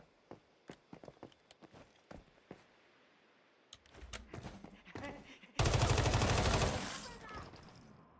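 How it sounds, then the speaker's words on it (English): Gunfire in the video game Once Human, scattered single shots at first, then denser bursts, ending in a loud sustained volley of rapid fire. "What, you mean the gunfire or the bodies of your friends hitting the floor?"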